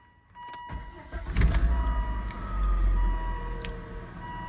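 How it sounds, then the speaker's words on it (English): A BMW E36 project car's engine cold starts: a short cranking burst, then the engine catches and settles into a rough, rumbling idle with some fluctuation, close and fairly loud. "You ready for a cold start of the world's quietest car?"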